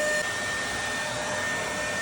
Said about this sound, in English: sound is kinda normal for all vacuum